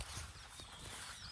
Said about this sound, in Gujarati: જોઈ લો આ ઘોડો નવો લાયા છીએ હમણાં જ